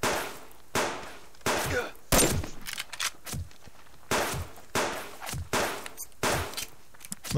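Hunters in the survival game Subsistence fire rifles in sharp, loud separate shots, about nine cracks spaced unevenly with short echoing tails between them.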